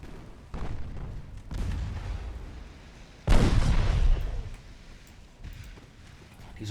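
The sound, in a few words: enemy naval guns firing, from video game Ultimate Admiral Dreadnoughts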